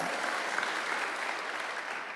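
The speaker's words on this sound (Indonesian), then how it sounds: "tepuk tangan bagi Allah kita" A church congregation applauds in praise during a worship service, dense even clapping from a large crowd heard at moderate distance, unbroken for about two seconds.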